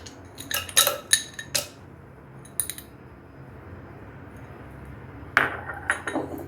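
Three ice cubes clink and clatter into a glass or jar holding black salt, mint leaves and lemon juice for a summer drink, a few sharp bright knocks in quick bursts at the start and again near the end, close and clear with no talk.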